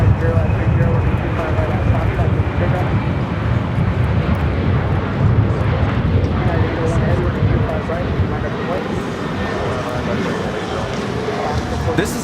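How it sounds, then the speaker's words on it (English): An Alaska Airlines Boeing 737-900ER takes off from Los Angeles LAX bound for Los Cabos, a loud, continuous rumbling jet roar that holds strong throughout and eases slightly toward the end. "This is Alaska Airlines 1430 taking off to Los Cabos on the 737-900ER."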